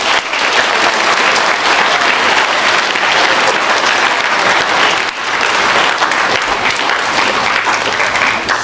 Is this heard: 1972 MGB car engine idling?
no